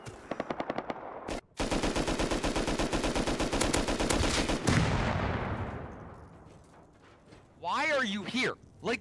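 Automatic gunfire in the video game Rust, a rapid burst of shots and then a long sustained volley that fades into a decaying echo, with a voice shouting faintly near the end.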